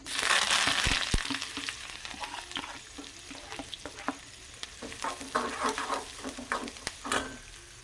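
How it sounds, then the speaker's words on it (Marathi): Food sizzles steadily in a hot pan while a spoon stirs and scrapes, with occasional louder clinks; no talking. "कांदा लाल होत परतायचा"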